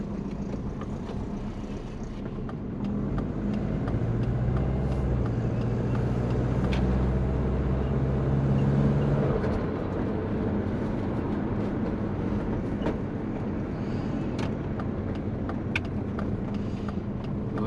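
A twin-turbo Subaru Forester drives along at a steady, moderate level, its low engine drone and road rumble heard from inside the car with no voices.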